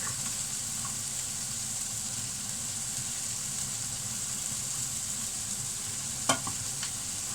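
Peanut butter chicken stir fry with garlic and chilli sizzling steadily in a pan, a constant frying hiss with a low hum underneath and a single sharp clink near the end.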